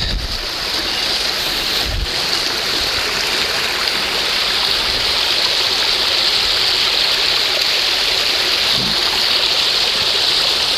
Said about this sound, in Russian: такая водичка с горки течет